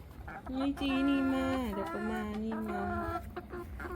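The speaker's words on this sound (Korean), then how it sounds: "꼬꼬들 잘 놀고 있어?" Chickens on a farm in Laos cluck and murmur close by, a run of warbling calls with steady harmonic tones, over a faint farmyard background.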